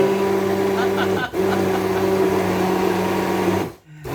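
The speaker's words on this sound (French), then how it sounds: "Et évidemment, le vacarme du mixeur." A kitchen blender whirs loudly and steadily while sauce is made, with a constant motor whine that briefly dips twice as the speed is changed or the machine is switched off.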